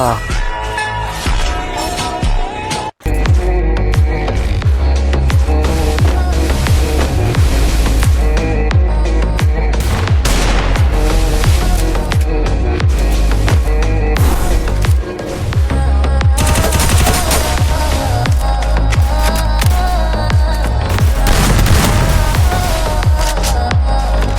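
Rapid bursts of gunfire from a battle-royale video game, loud and dense throughout, with repeated sharp shots over a steady low game soundtrack and one brief dropout near the start.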